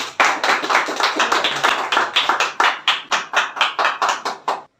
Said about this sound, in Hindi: उनके सम्मान में आप लोग जोरदार तालियां बजाएं।